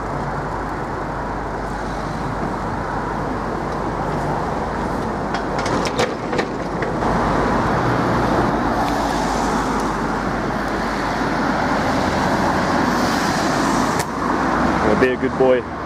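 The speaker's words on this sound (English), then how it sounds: "Sorry about the road noise." Steady road traffic noise in a busy urban area, a continuous broadband rumble of passing vehicles that stays loud and close throughout, with a few sharper transients near the middle and end.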